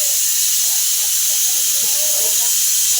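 Pressure cooker whistling as it releases steam while biryani cooks, a loud continuous high hiss holding steady throughout, with faint kitchen clatter underneath.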